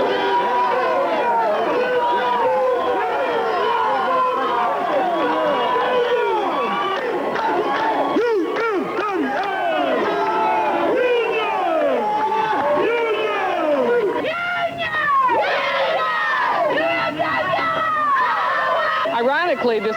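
Crowd of striking UMWA coal miners marching to jail during the 1989 Pittston strike, a dense outdoor babble of many voices with shouts and calls, steady and loud throughout.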